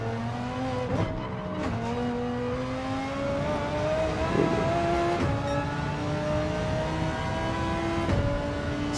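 Race car engines roar in Gran Turismo 7 during a 24-hour Nordschleife endurance race, a loud continuous note rising through the revs, dropping sharply at several gear shifts, with occasional tyre squeal.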